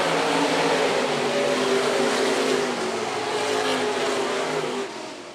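Stock cars racing at Phillips County Raceway, a loud, dense roar of several engines at full throttle that holds steady and then fades slightly as the pack moves on.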